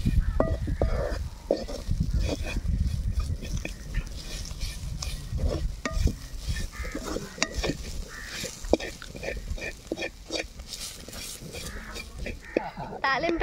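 Drumstick (moringa) leaves stirred in a frying pan for a tempering with chilli, scraping and clicking steadily over a low sizzle for the whole stretch, close and moderately loud.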